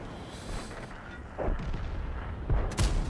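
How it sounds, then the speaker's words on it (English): Artillery firing in the tank battle game World of Tanks, several deep booming shots, with one distant blast and then two sharper nearby impacts in quick succession over a low rumbling game background. "artillery is even shooting at me from the base"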